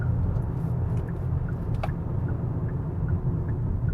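Kia K4 GT-Line hatchback from 2026 accelerating, a steady low road and engine rumble heard from inside the cabin with a few faint clicks and ticks over it, no talk.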